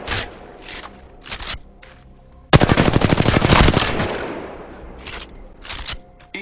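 Video game gunfire: a few scattered single shots, then a dense, loud automatic burst that rattles on for over a second and fades into more isolated shots, with no talking.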